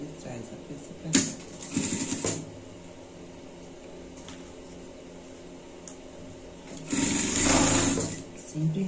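A sewing machine stitches a Christmas pet collar in short bursts of rapid whirring, a louder run near the start and another longer one near the end, with quiet handling noises between.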